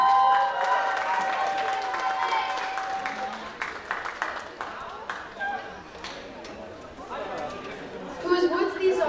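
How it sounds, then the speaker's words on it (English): An audience at a seasonal poetry reading performance claps steadily at first, the applause thinning out as voices and a few scattered claps take over, then a brief burst near the end. "Give a round of applause"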